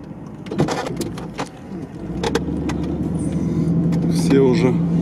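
A Hummer revving to build speed on a loose, sandy off-road hill, its engine drone rising steadily louder and rougher toward the end, with people talking nearby over the start.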